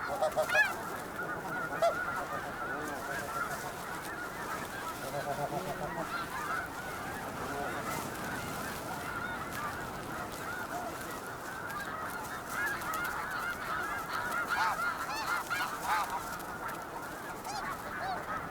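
Geese honk continuously in a dense, overlapping chorus at moderate distance, the calls running steadily with no talking.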